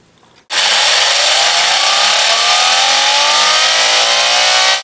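A car engine revs hard, jumping in abruptly after a brief quiet moment and holding a loud, sustained high whine with rising pitch for several seconds before cutting off sharply.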